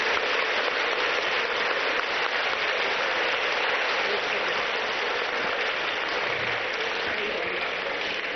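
Standing audience at a devotional music evening applauding loudly, continuous dense clapping that holds steady for several seconds without a break.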